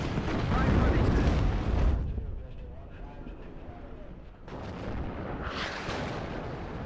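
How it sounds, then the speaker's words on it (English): Artillery barrages in the Cold War strategy game WARNO, heavy rumbling booms and roaring impacts that swell, fade into a quieter lull, then build again, with a voice speaking in between. "There's a lot of artillery that the AI is using."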